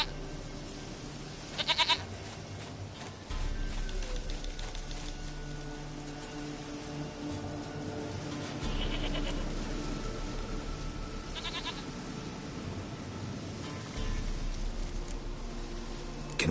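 A goat in a PS4 video game bleats several times at spaced intervals over a steady, murky ambient game backdrop, with no one speaking.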